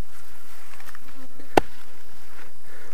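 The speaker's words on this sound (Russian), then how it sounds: "Пчелы летают." Bees fly around a home vegetable garden during an onion and garlic harvest, giving a faint, thin buzzing that runs through the clip, broken once midway by a single sharp, loud click.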